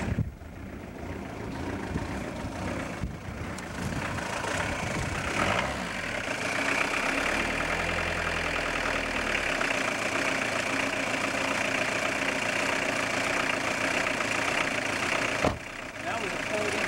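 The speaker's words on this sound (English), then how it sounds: "That was a cold engine." A cold diesel car engine starts after glow-plug preheat, then settles into a steady, slightly uneven low idle that runs on unbroken, close and moderately loud.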